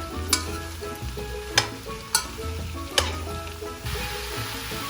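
Pumpkin frying in a pot with black pepper for Trinidad-style pumpkin, a steady low sizzle broken by four sharp utensil scrapes and knocks against the pot, with no talking.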